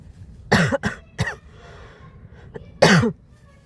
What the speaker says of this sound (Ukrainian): Я буду кашляти час від часу, бо я щось прихворіла дуже.